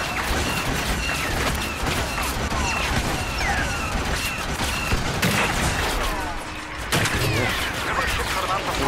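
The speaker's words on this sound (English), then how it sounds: "He's shooting me." Blaster fire in a Star Wars Battlefront beta match, with bursts of laser shots and explosions crackling steadily over a busy battlefield, continuous throughout.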